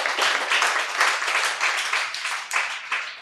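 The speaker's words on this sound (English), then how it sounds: "Could we have a round of applause for Heta, please?" Steady, close audience clapping at a talk on Goan houses, a dense patter of many hands at even loudness for the few seconds heard, without talk.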